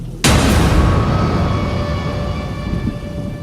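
A sudden loud crack of thunder bursts out and rolls away into a long, fading rumble.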